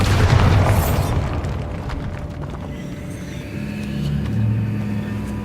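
A deep booming blast from the Bombarda explosion spell in Hogwarts Legacy erupts at the start, then a rumbling low tail fades under ambient game hum.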